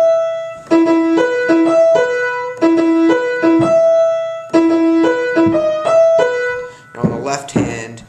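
Piano plays the repeated note pattern of a song, a bright, close melody that cycles several times. A voice starts talking near the end.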